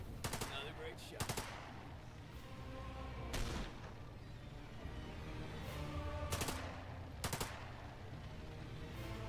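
Sharp gunshots in The Lamplighters League, a few short bursts and single cracks spread across the stretch, fairly faint under steady background game noise.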